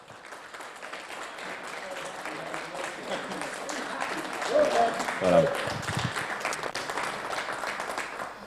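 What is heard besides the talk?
audience applause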